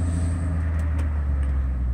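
The supercharged engine of a 2008 Cadillac STS-V runs nearby, giving a deep, steady, low rumble over a short stretch with no clear rise in revs.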